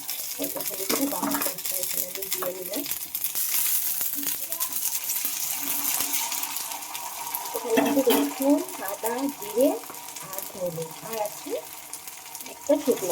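Ground spice paste hits lightly fried onions in a hot pan, a continuous bright hiss of frying with stirring, while a voice talks intermittently underneath.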